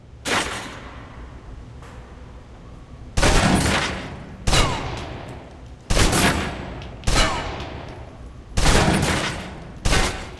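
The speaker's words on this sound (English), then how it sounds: "Now, let's move on to the submachine gun. Now let's empty the clip." In the video game Alpha Protocol, a submachine gun fires several sharp, loud bursts separated by short pauses, each burst trailing off in echoing decay, with no talking.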